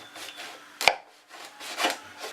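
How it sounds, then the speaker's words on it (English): A knife cutting a galia melon in half in a home kitchen: a sharp close chop stands out amid softer rubbing and slicing sounds, with no talk. "So grab your gallium melon, cut it in half"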